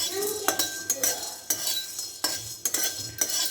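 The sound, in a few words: dry roasting cinnamon and whole peppercorns in a pan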